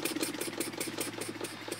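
A small Elmers wobble-plate steam engine ticks over slowly, giving a soft, even run of regular chuffing beats at close range, fairly quiet with no talking.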